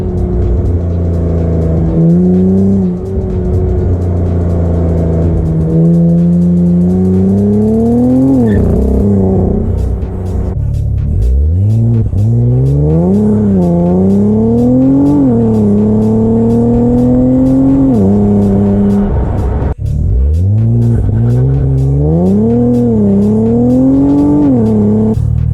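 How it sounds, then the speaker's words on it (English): Infiniti Q50/Q60 with a worn rear differential pinion bearing, pulling hard through several gears. The engine loudly rises and drops at each shift, with a persistent whine on top and no talk. "that winding that I have is most likely my pinion bearing"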